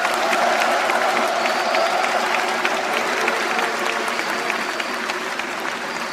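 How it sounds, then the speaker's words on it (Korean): A large audience claps in sustained, dense applause at a formal speech event, steady and fairly loud throughout with faint cheers mixed in. "다시 한번 큰 격려의 박수 보내주십시오"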